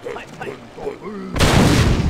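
A voice talks briefly, then a loud, sudden blast from a gunpowder weapon in a video game bursts out and roars on, rumbling to the end.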